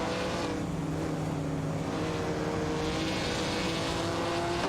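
Race car engines in a racing video game, including a Jaguar E-Type Lightweight, a steady droning engine roar with sustained tonal whine held throughout, moderately quiet and continuous, no talk.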